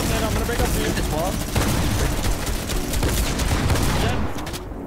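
Sustained, dense minigun fire in a building shooter game, loud and continuous for nearly the whole span before easing off near the end, with voices talking underneath.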